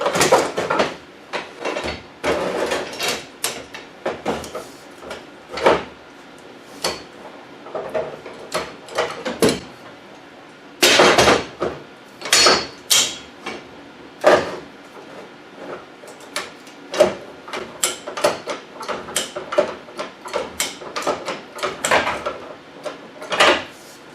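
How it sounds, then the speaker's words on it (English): Repeated kicks against the metal roof of a Toyota Solara demolition derby car land as sharp, close thuds and bangs in irregular bursts, some clustered and some spaced apart, with brief quiet between. "I'm just going to kick the roof quickly"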